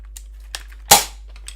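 A cheap spring-powered toy shotgun fires once with a sharp, close snap and a short ringing decay, with a few faint clicks of handling before and after.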